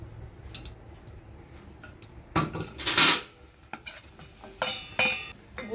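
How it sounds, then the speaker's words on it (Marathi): Jaggery goes into ghee in a pan for ukdiche modak filling. A spoon clinks and scrapes against the pan in close, irregular knocks and a few sharper clatters, with a faint sizzle underneath. "साजूक तूप घातल्यानंतर आता आपण गूळ टाकूया याच्यामध्ये."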